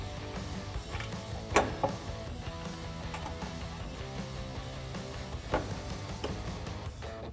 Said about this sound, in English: And then we'll take our 7mm socket to tighten these down.